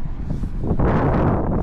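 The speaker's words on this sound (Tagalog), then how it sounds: "Narinig yun, lakas mo ng hangin." Loud wind buffets the microphone with a low, rumbling roar that swells and stays strong throughout.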